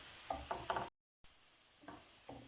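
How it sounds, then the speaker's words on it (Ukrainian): Onions fry in a pan while being stirred, a soft hiss of sizzling broken by a few scraping strokes, briefly cut to silence before the gentle frying and stirring resume. "Перемішуємо до однорідності і жаримо до готовності."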